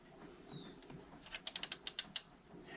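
A ratchet tightens the cap on a Simms Minimec diesel injector pump of a Ford Lehman 2715E engine, a quick run of about eight crisp metallic clicks, close and alone.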